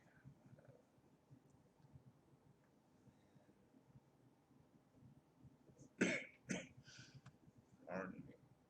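Muffled background speech, then a couple of sharp, loud coughs close by, followed by another cough a moment later.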